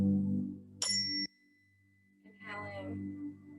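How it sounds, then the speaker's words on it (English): During a yoga session's breathing practice, a chime rings out with a bright metallic tone that cuts off sharply, after a low hum. A second, softer shimmering ring follows a moment later. "Hopefully you can hear this chime."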